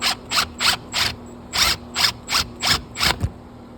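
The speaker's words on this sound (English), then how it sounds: "out just a little bit with the 1-inch drill" A 1-inch drill bores through a brick wall for a 220V outlet install, making about nine short, evenly spaced rattling bursts, loud and close, with brief pauses between them.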